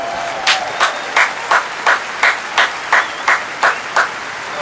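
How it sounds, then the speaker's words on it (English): Rhythmic audience clapping for a singer, about a dozen evenly spaced loud claps in a steady beat, sounding like a crowd clapping in unison. "Give her an enormous applause"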